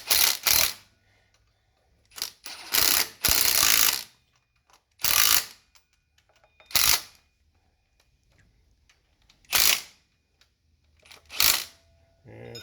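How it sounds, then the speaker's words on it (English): Ratchet clicking in repeated bursts while tightening the screws of a 3/4-inch water pump spacer kit, close and clear, with several short ratcheting runs separated by quiet pauses. "Just tighten these screws up."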